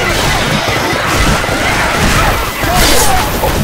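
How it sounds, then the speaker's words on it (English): Pipe bomb blast in a zombie-survival shooter bursts loudly as a dense, noisy crash spanning the whole moment, close and harsh with a slight swell near the end, amid chaotic game noise. "Okay, pipe bomb going out."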